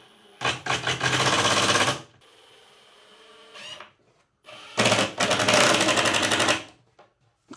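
A power driver sinks 2-inch screws into the underside of a rolling cart's top. Two loud, close bursts of buzzing motor and rattling bit, each about one to two seconds long, are separated by quiet gaps and faint handling noises.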